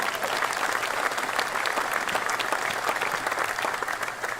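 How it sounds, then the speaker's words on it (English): Steady, dense applause from an audience at a university men's basketball coach introduction, loud and sustained throughout with no pauses. "How about a round of applause for Colleen?"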